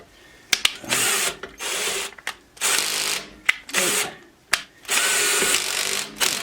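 A power drill set to low torque drives screws while mounting a HART 6-inch bench grinder, short loud whirring bursts broken by ratcheting clutch clicks and pauses, close by.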